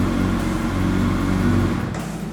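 A smooth, steady inline four-cylinder Honda CB1300 Super Four S motorcycle engine hums at a high idle, holding an even, continuous tone up close, easing slightly near the end.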